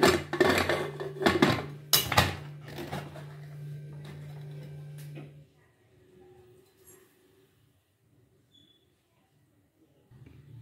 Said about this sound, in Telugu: ఇప్పుడు కుక్కర్ మూత పెట్టేసేద్దాం.